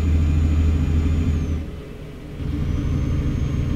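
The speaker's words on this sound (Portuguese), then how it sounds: "esse caminhão demora muito pra retomar a velocidade" A heavy truck in Euro Truck Simulator 2, loaded with olive oil, rumbles at low revs, dips briefly, then picks up again under a steady engine drone, with no talk.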